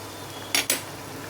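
Two quick metallic clatters, close and distinct, as cleaned chicken goes into a pan holding ginger garlic paste, the rest of the moment quiet with a low background hum.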